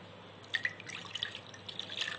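Water pours and trickles into a tumbler of semolina for rava kesari, with soft splashes and drips, quiet and close.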